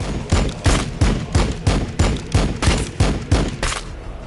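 Land speeder gunfire in the video game Warhammer 40k Battlesector: a rapid string of about a dozen loud, evenly spaced shots with heavy low thump, firing steadily throughout.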